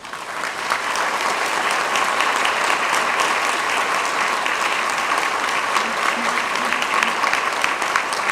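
Steady, sustained applause from a school audience at a Student of the Year 2023 ceremony, dense and even throughout, with a faint murmur of voices underneath.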